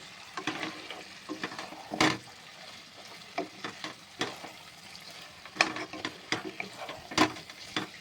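Mutton and onions sauté in oil in a pan for kasha, with a soft sizzle beneath repeated sharp scraping and stirring strokes at an irregular pace and no voices.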